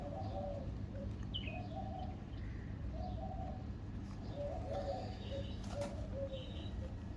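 Pigeons, a mated pair, cooing softly in repeated low, throaty phrases, joined by a few faint chirps and small knocks over a steady background hum.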